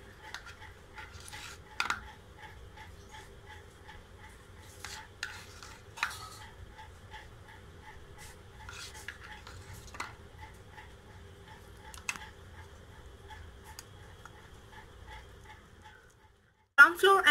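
Flour, curd and coconut oil being mixed for a face pack, a soft repetitive stirring and tapping in a bowl, quiet and rhythmic, with a louder knock at the very end.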